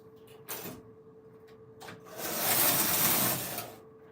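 A Silver Reed knitting machine runs with a carriage swept across the bed, short whirring passes followed by a longer, louder mechanical rush, with a steady electrical hum underneath and no talking.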